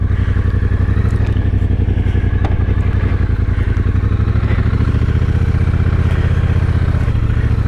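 A Triumph Bobber Icon motorcycle throbs with a loud, steady low engine pulse and rhythmic clatter while riding on the road, close and continuous under wind noise.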